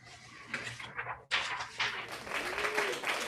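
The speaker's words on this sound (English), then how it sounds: "that is some consistent clapping" Audience clapping at a live open mic poetry reading, a steady sustained patter of many hands with a brief dip before resuming, fairly distant and moderate in level.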